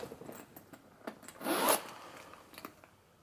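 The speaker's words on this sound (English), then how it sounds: "So I think it's just these big heavy zippers." A heavy zipper on a thrifted handbag is drawn open and closed, giving a scattering of small clicks and then one loud, close rasping pull in the middle of the clip.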